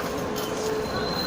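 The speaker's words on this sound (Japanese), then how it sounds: "まもなくいたしますと福知山電車区 C2 番線に到着です" A JR train pulling into a platform at the Fukuchiyama rail depot, a steady rumbling rail noise with faint high wheel squeal throughout, heard from inside the car.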